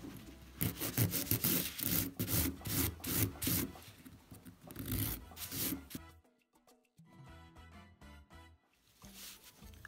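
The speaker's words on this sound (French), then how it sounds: "avec une grosse lime, on va venir raccourcir au maximum l'ongle" A coarse nail file rubs back and forth across a fingernail to shorten it, giving a run of rapid rasping strokes close up, then a brief pause before lighter, sparser strokes resume.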